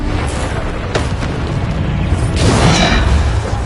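Bombarda blasting spell explosions in the video game Hogwarts Legacy, loud booming bursts over a continuous dense rumble of combat effects, with a sharp blast near one second and a bigger swelling eruption from about two and a half seconds onward.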